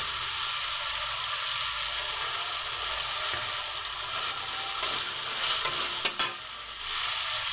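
Ginger and green chili paste frying in a pan, a steady, loud sizzle with scraping stirring strokes throughout and a few sharper clicks of the spoon toward the end.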